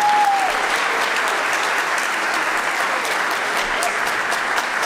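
Audience applause at a spring choral concert, a dense, steady wash of many hands clapping at full strength throughout, close and loud with no voices over it.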